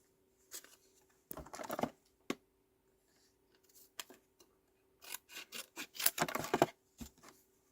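Scissors cutting cardstock for a stamped card, heard as several close, crisp snipping and slicing bursts with brief quiet gaps between them.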